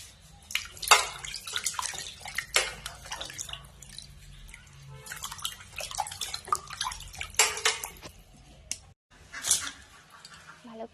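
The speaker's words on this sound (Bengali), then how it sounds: "কেটে ভালো করে জল দিয়ে ধুয়ে পরিষ্কার করে নিতে হবে।" Cut pieces of local tilapia washed by hand in water, with irregular close splashes and drips in bursts separated by short pauses.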